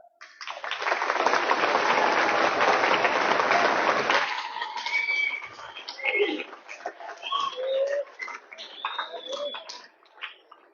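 Lecture audience at a student motivational talk clapping on request, a dense loud burst of applause for about four seconds that then breaks off into scattered claps and murmuring voices.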